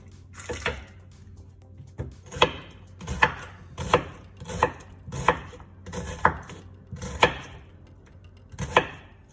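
Half an onion is chopped with a knife on a board, about a dozen crisp, evenly spaced strikes close up and alone.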